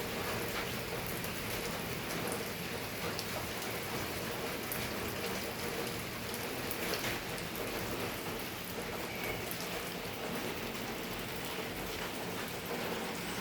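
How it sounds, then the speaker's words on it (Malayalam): Heavy rain pours down steadily in Kannur, Kerala, a dense, unbroken hiss of drops hitting surfaces close by, with no talking. "ഫുൾ മഴയാണ്"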